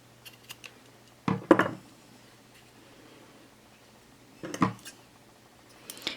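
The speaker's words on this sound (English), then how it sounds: "And now you can cut this excess threads in here." Scissors snip excess thread on a handmade bow tie necklace, a few quiet, close clipping bursts separated by pauses with a low steady hum underneath.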